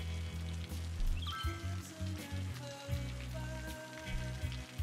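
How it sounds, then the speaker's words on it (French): Rain in the city-building game Cities: Skylines gives a soft patter of droplets under a low background music score with tonal notes, quiet and continuous, with no speech. "il pleut tout le temps, c'est dingue."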